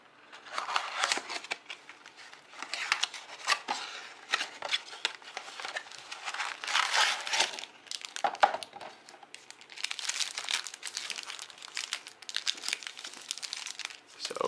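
Topps baseball card blaster box packaging is ripped open, with close, continuous crinkling and tearing of plastic and cardboard in irregular bursts for about fifteen seconds, without talk.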